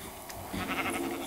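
A Minecraft sheep gives a short, wavering bleat, moderately loud and alone after a brief quiet start.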